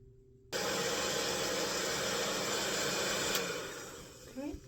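Hair dryer with a diffuser on its highest heat setting switches on after a moment of quiet and blows with a loud steady rushing roar.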